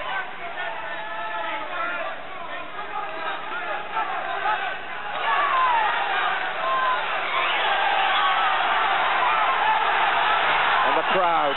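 A boxing crowd roars and cheers at a bout, a broad swell of voices that surges louder partway through, with a commentator talking over the noise.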